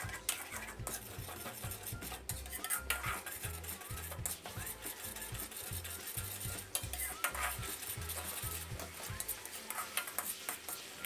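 Holy basil kaprao stir-fry sauce stirred in a pan, with repeated rhythmic scraping and clinking of a utensil against metal over a faint sizzle, close and steady throughout.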